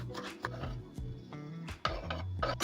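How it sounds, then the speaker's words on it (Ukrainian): A knife taps against a cutting board in quick, uneven chops, finely chopping a small piece of hot pepper, close and fairly quiet, with no one speaking. "Невеликий шматок гострого перцю дрібненько нарізаю."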